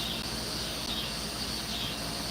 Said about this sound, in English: That's cicadas making that sound.